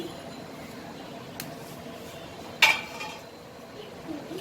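A metal saucepan lid set over food during cake baking, landing with one sharp clatter midway, with a softer clink earlier and faint scraping around it in a quiet kitchen.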